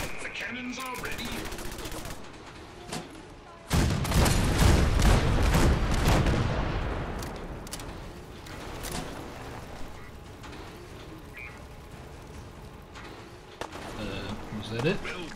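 Cannons in Fallout 4 fire at scavengers trying to board, a loud burst of booming gunfire with rapid crackling shots that swells midway, then fades to scattered reports under occasional talk.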